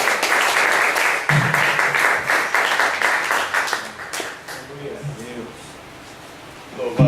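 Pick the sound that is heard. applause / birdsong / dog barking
applause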